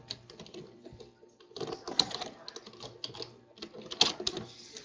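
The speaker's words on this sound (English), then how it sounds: "Hold on, I'm typing it." Rapid clicking of computer keys in uneven bursts and pauses, close and fairly quiet, with a few louder key strikes.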